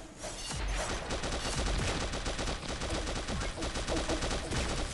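Rapid gunfire from the mobile shooter Pixel Gun 3D, a dense, continuous burst of shots running throughout, loud and close with game music and effects underneath and no talking.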